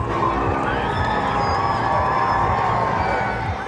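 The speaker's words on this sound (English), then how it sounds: "The King arrived to cheers and flag waving from the hundreds of people who'd gathered" Hundreds of people gathered in Cardiff cheer and wave flags as King Charles arrives, a dense, continuous roar of crowd voices with scattered shouts close by.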